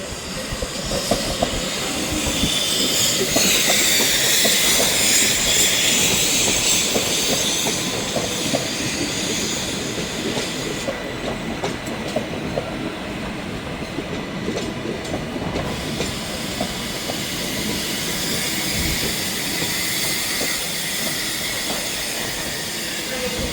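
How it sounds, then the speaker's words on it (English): A five-carriage train rolling into Manchester Piccadilly station, loud and close, with steady rumbling wheels, rhythmic clickety-clack over rail joints and hissing brakes throughout. "Trainspotting Express formed of 5 carriages"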